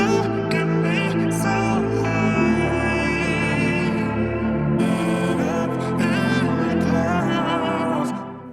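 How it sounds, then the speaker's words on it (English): A dense, dark R&B ambient music sample with sustained low bass and hazy chords, shifting pitch every few seconds, steady and fairly loud without vocals. "dark R&B ambient sounds like this"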